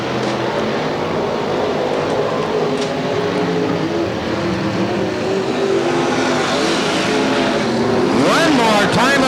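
CDCRA dwarf cars race at Bakersfield, California, with loud, continuous engine roar from the pack of small race cars. A race announcer calls the action over the noise, and a rising engine whine sweeps past near the end.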